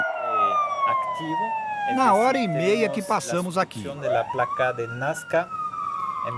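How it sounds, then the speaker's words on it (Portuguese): A wailing siren at a seismic monitoring centre rises and falls steadily in the background while someone talks over it for the whole stretch. "Essa sirene toca a toda hora."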